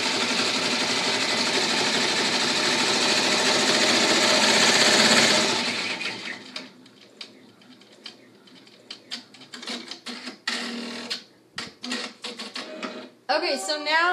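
An embroidery machine stitching a troll appliqué hums and clatters loudly for about five seconds, then goes quiet, followed by handling noises and clicks while a person talks.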